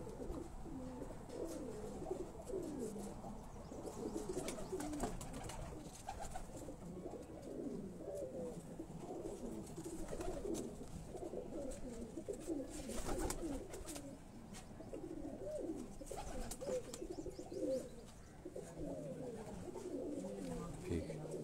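Pigeons coo repeatedly on a rooftop in Jalalpur Bhattian, soft layered calls running the whole time, with occasional voices in the background.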